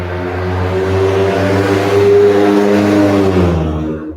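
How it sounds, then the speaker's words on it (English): A car engine roars close by as it passes, a loud steady revving tone that fades away at the end. "You hear these cars and these sirens and all these commotion all of a sudden."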